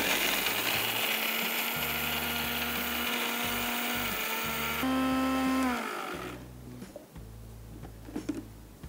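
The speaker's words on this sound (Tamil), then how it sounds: "இந்த மிக்சி ஜாரில் இவன் இருக்கலாம் பார்த்தீங்களா, இவனை ட்ரையாக ஒரு பவுடராக அரைங்க" A mixer grinder jar whirs steadily as it grinds spices into a dry powder for cauliflower khorma, a loud droning motor hum for about six seconds before it winds down and stops, followed by faint clattering.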